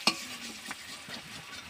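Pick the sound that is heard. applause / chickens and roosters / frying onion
frying onion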